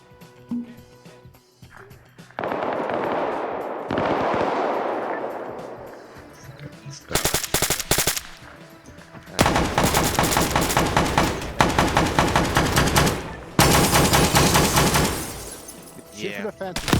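Video game combat fills the air with loud bursts of automatic gunfire, long rattling volleys separated by short pauses, while a player talks over the shooting.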